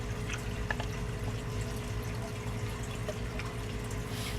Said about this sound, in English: I pour them back and forth a couple times just to help get them mixed up